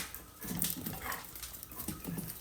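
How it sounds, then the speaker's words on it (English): A pet dog at home gives short yips and whimpering barks, several bursts close by with a little background noise. "We heard you barking"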